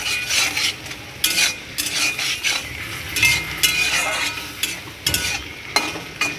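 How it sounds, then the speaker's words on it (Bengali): Potato curry stirred in a hot pan after garam masala powder goes in, bursts of loud spoon scraping and sizzling in an uneven rhythm, close up with occasional metallic clinks and no voices. "গরম মশলা দিয়ে দেওয়ার পর এবার একটু নাড়াচাড়া করে নেব"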